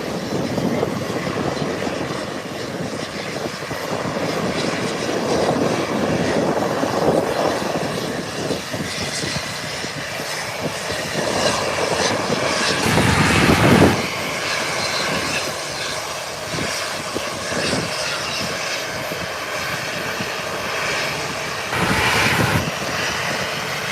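American Airlines airliners at Howard Hamilton International Airport, a continuous loud engine rumble and whine, swelling in places as if passing close, with no voices.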